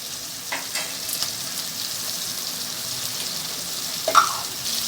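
Masala paste frying in a pan for masala bhindi, a continuous close sizzle with occasional spoon scrapes and one brief louder clack near the end, no talk.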